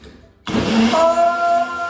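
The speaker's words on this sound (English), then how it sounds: "plug in my blender, and blend it." A blender whirs to life after a brief quiet moment, its motor holding a steady, loud grinding hum with a rising whine.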